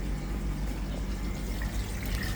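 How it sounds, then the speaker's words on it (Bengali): A washing machine pumps out water while draining after an E1 drain error is cleared. A continuous, close gurgling rush of water runs steadily throughout with no talking. "এই যে আপনারা পানি ড্রেনের যে সাউন্ড শুনতে পাচ্ছেন"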